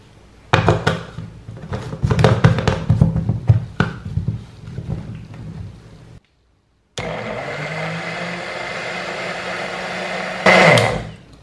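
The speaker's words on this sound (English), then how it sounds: "You cover this and blend it." A kitchen blender blends a garlic clove and a banana, a loud steady mechanical whir that starts after a few thunks, stops briefly, then runs on evenly with a brief surge near the end.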